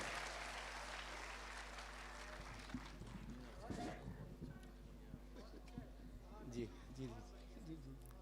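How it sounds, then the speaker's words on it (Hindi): Audience at a school poetry recital clapping to welcome a poet on stage, applause at first that thins into scattered claps while voices and a low steady hum carry through the rest. "एक बार जोरदार तालियों के साथ मनोज मौर्य बुलाएं और कविता सुन"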